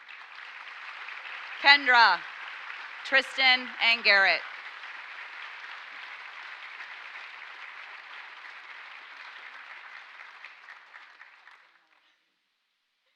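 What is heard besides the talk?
audience applause for scholarship winners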